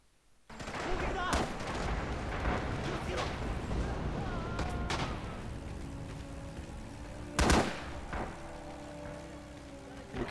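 Artillery and gunfire in the World War II shooter Rising Storm, Singapore map, with Australian forces: a dense, continuous battle din with scattered sharp bursts and one loud, close blast partway through, ending with another crack.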